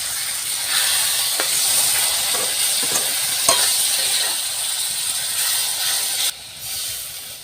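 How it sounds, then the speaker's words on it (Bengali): Ground spices such as cumin and coriander frying with a splash of water in a pan, a loud continuous sizzle with scraping stirs throughout, dropping off briefly near the end. "সামান্য একটু জল দিয়ে আমি কষে নেব"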